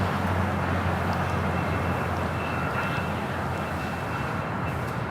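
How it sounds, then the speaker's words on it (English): An Airbus A321 arriving from JFK rolls along the south side of Los Angeles International Airport, its engines a steady broadband roar that holds loud and constant with no voices. "This flight coming in from JFK, A321, arriving here on the south side, now heading to Terminal 4 or 5 here on the south side."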